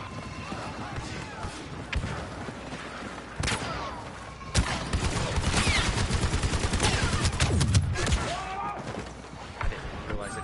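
Blaster turret firing in Star Wars Battlefront 2, dense rapid bursts of energy shots with booming impacts and game action, a loud continuous barrage lasting most of the stretch.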